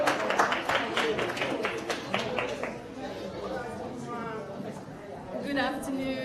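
Applause from the audience at a social impact summit, brisk clapping that fades out within a few seconds into murmuring room chatter and a voice in the hall.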